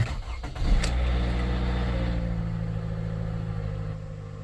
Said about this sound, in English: And now when I start the vehicle, like now,